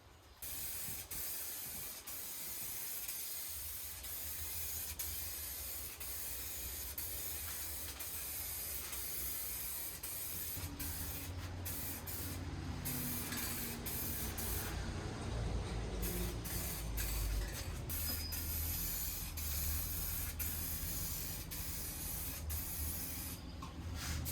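Steady spray-gun hiss as thin coats of paint go onto a Suburban roll pan, continuous throughout, close and fairly even, with some low rumble and faint mechanical ticks entering in the second half.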